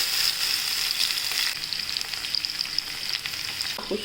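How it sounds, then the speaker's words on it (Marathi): Bitter gourd pieces fry in hot oil with a dense, even sizzle that holds steady throughout, plus a faint clink near the end and no voices. "आता हे आपण ना तेलात तळून घ्यायचे म्हणजे एकदम ब्राऊन करून घेतो"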